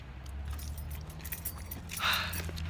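A bunch of keys jingles briefly and close near the end of the clip, over the low hum of an idling car, with no talking.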